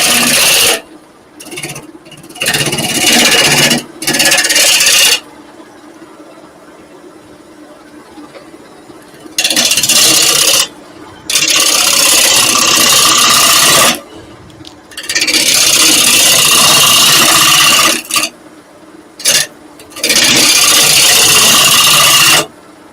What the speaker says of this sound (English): The chisel's cutting now.